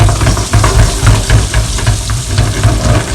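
Small Turkish meatballs (misket köfte) sizzle steadily as they fry in a pan, a loud continuous crackle with rhythmic low stirring pulses, no talking.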